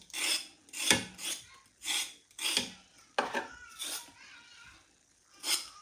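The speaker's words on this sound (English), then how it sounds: "So I like to scrape my carrots." Carrots scraped with a knife in a home kitchen to take off dirt, a series of rough rasping strokes in a steady rhythm, close and clear with no talking.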